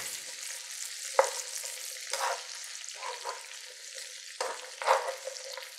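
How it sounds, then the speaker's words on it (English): Almonds frying in a pan are stirred, with a steady bright sizzle broken by several scraping strokes and light knocks of the utensil against the pan, close and fairly loud. "Give them a quick stir, and you'll see them immediately start going golden brown"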